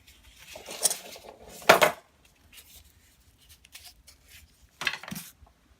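Metal ring band being hammered, a few sharp ringing strikes spaced irregularly, two loud close hits and a couple of softer taps between quiet gaps.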